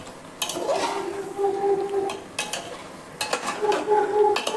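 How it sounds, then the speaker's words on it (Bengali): Marinated meat tossed into a pan of fried onions for a yakhni pulao, stirred so the spoon scrapes and clatters against the metal over a steady sizzle, loud and close, with no talk. "তো মাংসটা তখন কষতে থাক"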